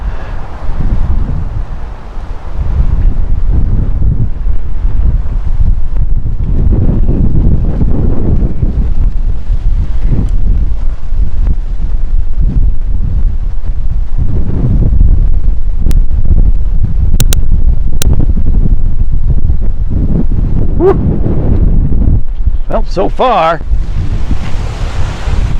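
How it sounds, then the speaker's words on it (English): Strong wind gusts roar through a Boise, Idaho dust storm, buffeting the microphone in a loud continuous rumble that swells and eases, with a brief voice speaking early on. "See that wind just going right down the dust trail here."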